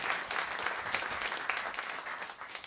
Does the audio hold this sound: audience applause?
yes